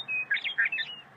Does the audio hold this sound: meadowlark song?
yes